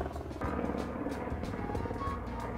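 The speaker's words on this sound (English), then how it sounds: "Here comes a helicopter." Helicopter flying overhead outdoors, a steady loud rotor drone with rhythmic chopping that fills the whole stretch, no talk.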